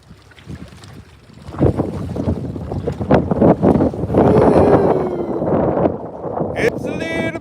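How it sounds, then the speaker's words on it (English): Gusty wind buffeting the microphone outdoors at a snowy reservoir during trout fishing, rising and falling in rough bursts, with voices talking underneath. "It's a little bit windy."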